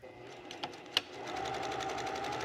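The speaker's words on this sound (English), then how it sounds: "So I'm just going to sew a seam here," Sewing machine stitching a seam on a little black dress garment, a short near whirring run of rapid needle clicks building to a steady mechanical buzz after two light taps.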